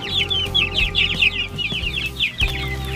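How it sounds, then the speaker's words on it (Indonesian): Several free-range village chickens cluck in quick, overlapping bursts close by inside their coop, over a low steady hum. "Banyak ayam beliau ini sobat."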